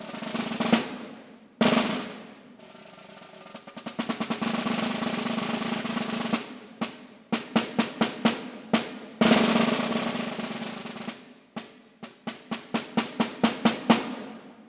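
A snare drum plays a series of accented and non-accented rolls, with sustained buzzing press rolls broken by sharp accented strokes and quick rhythmic bursts of single hits, crisp and close with no talking.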